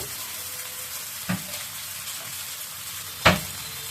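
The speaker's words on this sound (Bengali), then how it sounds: "ফোড়ন দিয়ে দিব তেজপাতা আর মেথি। এবার লাউটা ঢেলে দিলাম" Bottle gourd pieces frying in oil tempered with bay leaf and fenugreek: a steady soft sizzle throughout, with two brief louder clatters near the start and end, no voices.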